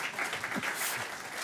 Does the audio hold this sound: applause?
yes